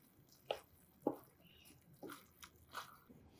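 Snow peas being stirred through a pan of leek and mixed pea risotto: a handful of soft, wet clicks and squelches at an uneven pace, close and quiet, with no talking.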